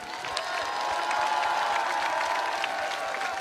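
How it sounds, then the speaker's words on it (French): Audience at a French Communist Party political rally applauding loudly, a dense continuous wave of clapping with some cheering that swells and holds steady for several seconds, with no speech. "Je vous demande d'applaudir aussi fort que possible Hala Abou Assira, ambassadrice de Palestine"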